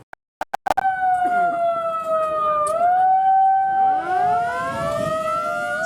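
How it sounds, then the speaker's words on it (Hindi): A wailing emergency siren at a disaster management mock drill rises and holds a steady tone after a few sharp knocks, then a second siren joins with sweeping up-and-down wails, loud and sustained. "সাইরেন বেজে গেছে"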